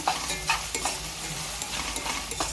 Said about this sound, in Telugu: ఈ అల్లం వెల్లుల్లి పేస్ట్ కూడా పచ్చివాసన బాగా పోయే వరకు వేపుకోవాలండి మనం